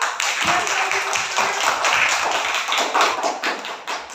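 Classroom group clapping for a student team's performance at a school session, a dense steady patter of hands lasting several seconds, loud and close.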